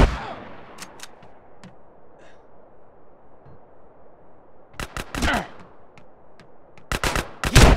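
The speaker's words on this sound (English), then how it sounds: "Yes, a gun." Gunfire in GTA San Andreas comes as sharp, separated shots: an opening crack, a few isolated pops, then quick bursts of several shots near the middle and the end, over quiet game ambience.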